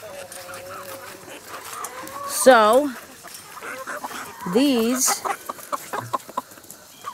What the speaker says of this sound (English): Okay, chickens, here it comes.